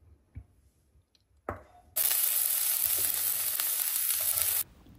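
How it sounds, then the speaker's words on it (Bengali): Onion and garlic hit a little hot oil in a pan. A couple of sharp knocks come first, then a loud, bright sizzle bursts up and holds steadily for nearly three seconds before cutting off abruptly. "অল্প তেলে পেঁয়াজ আর রসুনটাকে সতে করে নিতে হবে।"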